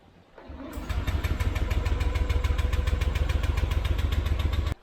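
A Honda Beat FI scooter engine sputters to life and runs with a rough, pulsing idle, then abruptly cuts out, failing to keep running.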